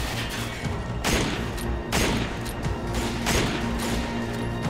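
Gunfire in the video game Resident Evil 5, four heavy, booming shots spaced about a second apart, each loud, sharp blast ringing out over a constant droning background.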